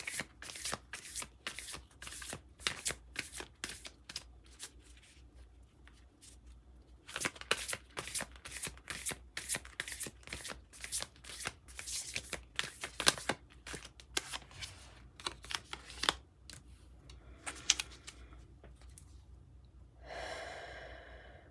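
A tarot deck, The Uncommon Tarot, is shuffled over and over, crisp riffles and rapid card flicks in bursts up close, with soft breathing between and a brief louder shuffle at the end.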